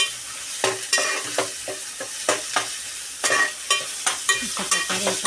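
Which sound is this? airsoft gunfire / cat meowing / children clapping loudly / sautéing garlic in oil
sautéing garlic in oil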